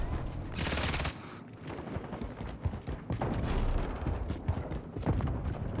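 Gunfire in Call of Duty Modern Warfare 3 multiplayer: rapid, dense automatic bursts and single shots crackle almost continuously at close range, loud and overlapping, with a brief full-band blast near the start.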